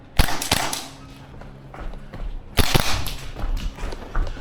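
Maruyama SPC-9 gas blowback airsoft rifle firing a few sharp, snappy shots close by, with a loud crack near the start and another cluster of pops later amid mechanical clatter.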